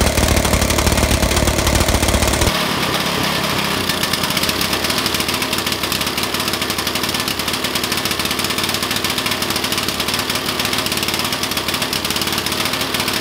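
A mini buggy's small engine runs loud and close, a rapid buzzing putter that steadies after a shift in pitch early on, continuing without break.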